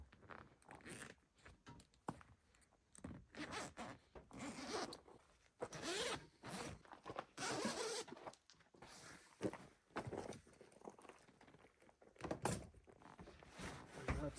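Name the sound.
tent zipper being worked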